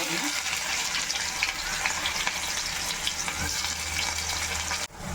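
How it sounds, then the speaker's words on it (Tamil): Onions frying in oil in a pan for arai keerai poriyal, a steady close sizzle running throughout with occasional stirring clinks, no talking. "வெங்காயம் நல்லா வதங்கிடுச்சு"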